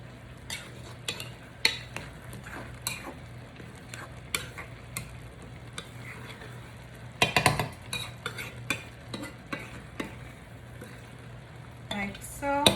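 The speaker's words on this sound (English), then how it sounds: "Now we're going to give it a good stir. Make sure that we stir all the beans and the pieces of ham within the rice." A spoon stirs rice with beans and pieces of ham in a pot, scraping and clinking in an irregular run of knocks over a faint hum, close and fairly quiet, with a denser burst of scrapes partway through.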